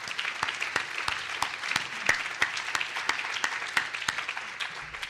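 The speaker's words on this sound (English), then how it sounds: "So a great round of applause to everybody," Scattered, moderately faint clapping at a welcome luncheon, individual claps standing out in an uneven rhythm from a modest crowd, with no talking over it.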